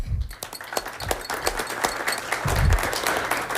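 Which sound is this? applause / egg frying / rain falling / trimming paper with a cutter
applause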